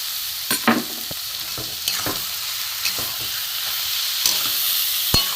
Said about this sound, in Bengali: এগুলো সব ভাজবো একসাথে।